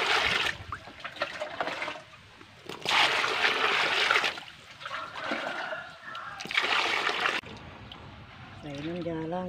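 Leaves being washed in a basin of water, with repeated splashing and sloshing in bursts, close and fairly loud, while someone talks over it throughout.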